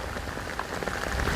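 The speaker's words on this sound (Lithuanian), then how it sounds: "Nes dabar jau pradėjo lyti." Steady rain falling outdoors, a continuous dense hiss of drops on surfaces with no voices, close and even throughout.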